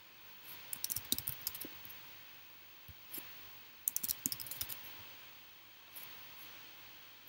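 Light clicking of a computer keyboard as names and emails are typed, in short quiet bursts separated by pauses, close up against a faint hiss.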